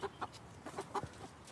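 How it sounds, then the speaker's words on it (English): Chickens newly arrived at a farm cluck in a string of short, close bursts, several soft calls overlapping with no talk. "Well, here we go, chickens."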